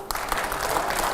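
Studio audience applause during a political panel discussion: a full burst of loud clapping from a crowd, starting sharply and holding steady.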